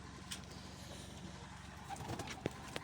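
Pigeons cooing softly inside a pigeon loft, low rounded calls repeating over a steady background hiss, with a few faint knocks and fluttering sounds nearby.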